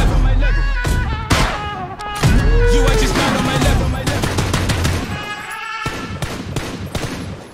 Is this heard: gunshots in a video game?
yes